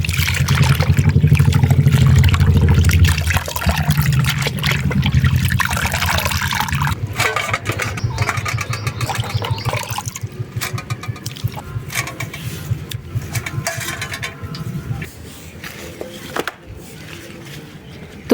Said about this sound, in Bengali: এবার এটা ভালো করে ধুয়ে জল ঝরিয়ে নেব